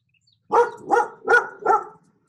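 Dogs barking indoors, four quick loud barks in a tight rhythm, close by, with near silence before and after.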